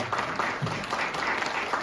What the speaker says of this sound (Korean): 다시 한번 우리 신랑 신부에게 큰 박수 보내주시면 감사하겠습니다